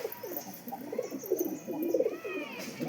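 Pigeons coo softly and repeatedly in low, rolling murmurs, close by, with faint chirps in the background.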